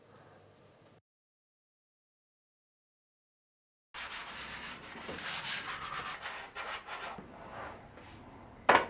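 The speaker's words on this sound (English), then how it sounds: "then planed and sanded everything in place" Sandpaper rubs over a wooden French cleat piece in close, steady scratchy strokes after a brief silent gap, ending with a sharp knock.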